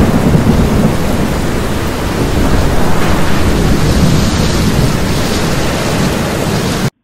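Heavy rain pours steadily in Chennai with deep rolling thunder, a loud, dense roar of rainfall and low rumbles filling the whole stretch without pause.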